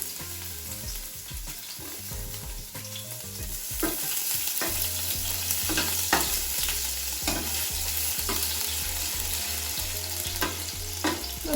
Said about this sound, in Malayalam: എണ്ണ നന്നായിട്ട് ചൂടായിട്ട് വന്നിട്ടുണ്ട്. അപ്പം നമ്മൾ ഇഞ്ചിയും വെളുത്തുള്ളിയും ചേർക്കുകയാണ്.